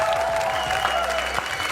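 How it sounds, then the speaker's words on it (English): A podcast audience stands and gives a huge round of applause, dense steady clapping from a crowd, loud and continuous through the brief moment. "give a huge round of applause to our good friends Jason and Kristen"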